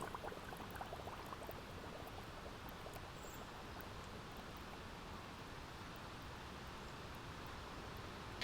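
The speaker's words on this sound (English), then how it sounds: "the only real way to get it rehydrated is to put it underwater and bubbles come out" Dried potting soil of a plant held underwater, giving off a steady, dense fizzing of rising bubbles that stays even and close throughout, with no voices.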